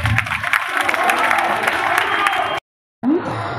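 Audience clapping at a Shivaratri night-vigil gathering at Mahanandi, a dense steady patter of many hands with some crowd noise, breaking off abruptly near the end.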